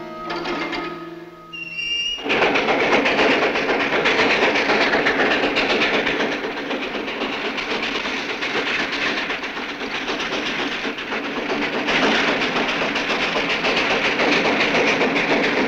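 Train rolling along rails, a steady loud rumble with clattering wheels that builds in abruptly after a brief tonal sound and holds continuously.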